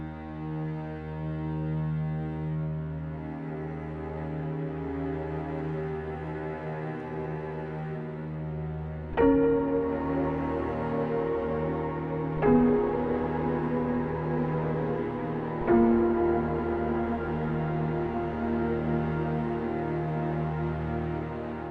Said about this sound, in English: I just have the low strings accompanying the piano part right here